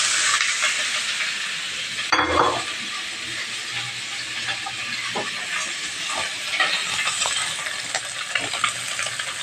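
Seasoning cubes toasting in a pan for ginataang papaya with flaked fish, with a constant sizzle, one sharp clunk and rattle early on and soft stirring scrapes, close and without talk.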